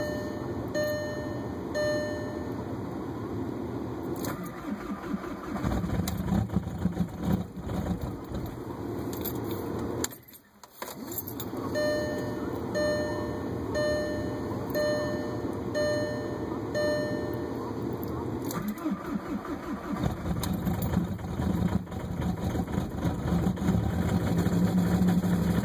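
A 2004 Volkswagen Jetta TDI diesel idles after a cold start with a steady, rhythmic ticking clatter. The sound is loud and close, with a brief dip partway through.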